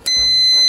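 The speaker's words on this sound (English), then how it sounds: "I'm going to put my meter onto beep test" A single loud, high-pitched electronic beep starts abruptly and holds steadily to the end, a sharp multimeter continuity tone while testing a Weller soldering iron's magnastat switch.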